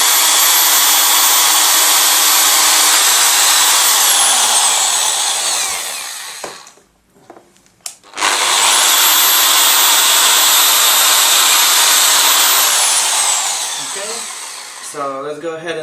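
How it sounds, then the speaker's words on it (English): Power drill boring holes through an aluminum rack for a snake enclosure, a loud continuous high whine that runs for several seconds, stops briefly, then resumes for another long pass before trailing off with some clatter. "we're just gonna go ahead and drill it right through this hole."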